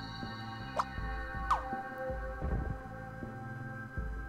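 Water dripping in the Scribblenauts Unlimited video game: a few separate, clear, plopping drips spaced about a second apart over a low throbbing hum.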